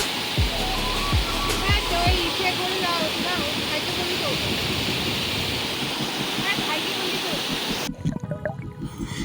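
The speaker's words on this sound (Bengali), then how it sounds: "এই জায়গাটায় পুল, আর এখানে ঝর্ণাটা, এই ঝর্ণাটি জল দিয়ে সমস্ত পুলে জল" A waterfall at Rong in West Bengal pours into a pool with a loud, steady roar close by. A few low thumps come early on, and the rushing drops off abruptly near the end.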